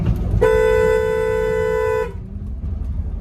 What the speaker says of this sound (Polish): użyłem sygnału dźwiękowego w terenie zabudowanym